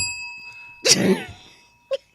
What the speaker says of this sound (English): The bell. Bane of my existence. The darn bell.